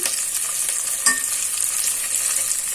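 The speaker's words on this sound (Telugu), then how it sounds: "ఆనియన్ కొంచెం ఫ్రై అయింది కదండి, ఇందులోనే పచ్చిమిర్చి ముక్కలు" Onion and green chilli pieces fry in hot oil in a pan for coconut rice, a steady close sizzle with faint stirring scrapes and one brief clink, no voices.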